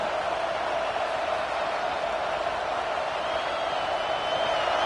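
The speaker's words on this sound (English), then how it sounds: "This crowd, full throat, spreading the eardrums and letting them know it's going to be a long day." A football stadium crowd roars full-throated, a dense, steady wall of noise that holds at the same loud level throughout with no breaks.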